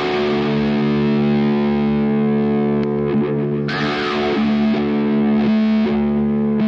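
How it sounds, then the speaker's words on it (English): A sustained distorted electric guitar chord run through a free auto-wah VST plugin, its tone sweeping up and down steadily, with a few fresh strums partway through. "you can choose here the time of the sweep of the auto wah"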